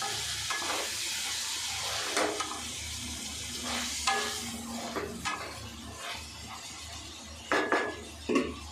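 Peanuts frying in a pan on a stove, with a steady broadband sizzle and repeated scraping, stirring strokes against the pan throughout, close and fairly loud, with no talking.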